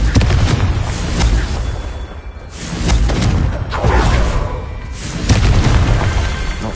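Repeated fiery Confringo blasting-spell explosions from a Hogwarts Legacy wizard duel against Merlin, several loud rolling booms swelling and fading in waves over a continuous roar, with no talk.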